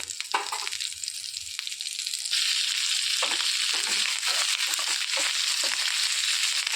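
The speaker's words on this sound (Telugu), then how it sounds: "ఇందులోనికి ఎండుమిర్చి కూడా వేసేసుకొని వేయించుకోవాలి" Dry red chillies, tamarind and curry leaves fry in hot oil in a pan, a steady close sizzle that swells louder partway through, with light stirring scrapes and no talking.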